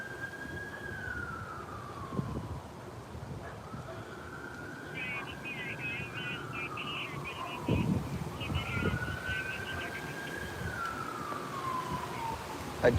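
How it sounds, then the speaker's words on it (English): Several police car sirens wailing in rising and falling sweeps at a homicide scene in East Saint Paul, fairly distant, over outdoor street noise and wind with occasional low thumps. "I do hear multiple police cars heading towards White Bear right now."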